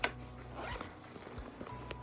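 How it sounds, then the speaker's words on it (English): Zipper on a compartment of a geometric luminous purse being pulled, a few quick close scratchy runs of the teeth, quiet and without talk. "There you go, a zipper guys."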